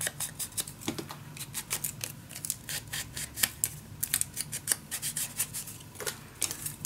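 Paper for a winter mini album being cut with scissors: a quick series of crisp, close snips and rustles in an irregular rhythm, with no talking.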